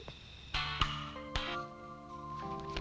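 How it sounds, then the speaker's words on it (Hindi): Electronic telephone tones from a phone being dialed, with several sharp onset clicks followed by steady layered pitches sounding close and clear, no talking over them. "अपन उसे फोन करने वाला है"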